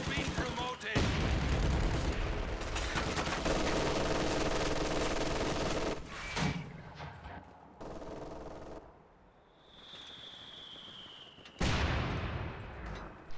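Bursts of machine gun fire and gunshots fill a WWII strategy video game battle, including an MG-42 crew firing, with loud rapid rattling volleys, booms and sudden cut-offs, while game voices call out between them.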